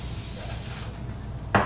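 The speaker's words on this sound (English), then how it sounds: "you want to spray your cookie sheet with some vegetable oil" Vegetable oil sprays from a can onto a cookie sheet in a kitchen: a steady close hiss for nearly a second, then a short sharp burst of spray.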